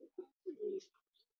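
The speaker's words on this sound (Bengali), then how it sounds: "এটা কিন্তু হালকা খোলা দমের কবুতর।" A pigeon gives a few soft, throaty coos close by in an otherwise quiet space, short guttural pulses followed by a longer rolling coo and a faint high chirp.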